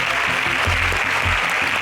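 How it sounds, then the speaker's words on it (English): Applause from the audience at an agricultural science quiz contest, a dense and steady burst of clapping lasting about two seconds with no voices over it. "A round of applause for them, please"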